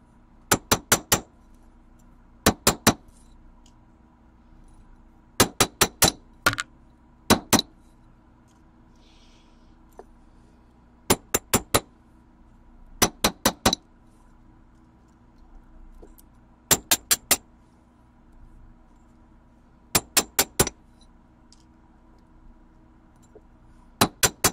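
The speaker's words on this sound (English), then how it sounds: "So you can hammer pretty firmly" Metal paperclips are hammered flat in sharp, bright clanging bursts of two to four rapid strikes, repeated every few seconds with quiet pauses between, close and loud with no talking.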